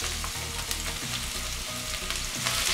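Cumin seed, ginger and garlic fry in grapeseed oil in copper cookware, a dense close sizzle with steady crackling and faint stirring throughout.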